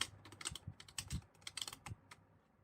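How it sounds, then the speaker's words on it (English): A deck of playing cards being shuffled, face-up cards mixed into face-down ones, giving a quick run of close, crisp riffling clicks and flutters lasting a couple of seconds. "I'm going to take these face-up cards and shuffle them with all these face-down cards."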